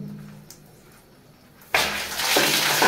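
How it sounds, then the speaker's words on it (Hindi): Water bursts from a bathroom shower pipe fed through a CPVC line with a one-inch fitting, shooting a strong pressurised gush that starts abruptly after a quiet stretch and stays loud and steady to the end. "ये देखिए कितना आगे तक जा रहा पानी"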